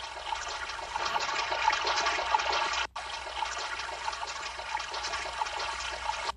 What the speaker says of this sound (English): Hey, what a fountain!